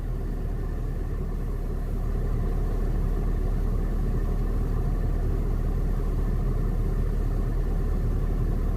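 A 2006 Acura TL engine idles close by, a constant, even rumble that holds steady throughout.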